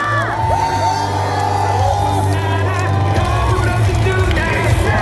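Large outdoor crowd at a street election rally on a shopping street in Gwangmyeong cheers and whoops loudly and continuously, with scattered shouts over a steady low hum from the sound system.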